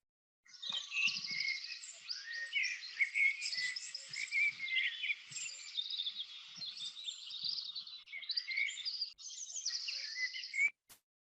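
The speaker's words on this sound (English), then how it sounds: "I shared with you the beautiful sound of birds" Birdsong fills the morning air outdoors continuously, a busy mix of chirps and trills from several birds at moderate distance, with faint scattered low knocks underneath.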